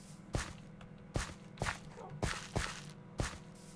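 Footsteps walking on gravel in Minecraft, six crunchy steps at an even, unhurried pace, close and fairly soft, with no one talking.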